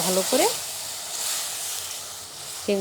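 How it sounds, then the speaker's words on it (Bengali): Shrimp frying in a pan with salt, turmeric, coriander and red chili powder, giving a steady sizzling hiss with occasional stirring, and brief speech at the start and end. "ভালো করে চিংড়িটা কষাবো"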